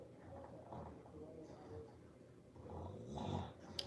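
Someone snores faintly with low, rough breaths. The snores swell toward the end over a quiet, murmuring background.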